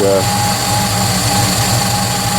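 A Subaru EA81 carbureted engine runs at a raised idle after a carburetor adjustment, giving a steady droning hum with a faint high whine throughout.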